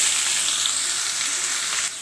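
Ash gourd pieces hit a hot pan of oil tempered with fenugreek, radhuni, chili and bay leaf for a moong dal dish, setting off a loud, steady sizzle that drops slightly near the end.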